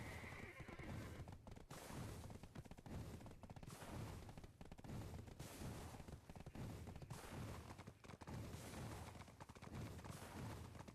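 Horse neighing with clip-clop hooves in the online fantasy game Black Desert Online, the whinny rising near the start over a steady, dense bed of hoofbeats and game ambience with crackling bursts like gunfire throughout.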